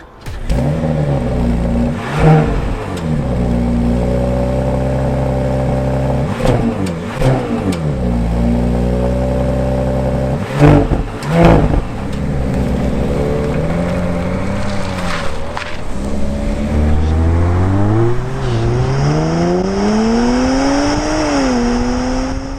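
A 2025 Audi SQ5 Sportback's engine fires up and is blipped repeatedly, loud close revs rising and falling in several swells before a longer climbing rev near the end, with no talking over it.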